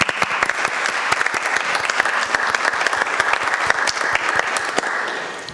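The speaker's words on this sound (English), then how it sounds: "And now we can clap." A city council meeting room breaks into applause after a unanimous vote, many hands clapping in a dense, steady burst that carries on for several seconds before tapering off.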